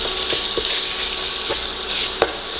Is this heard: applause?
no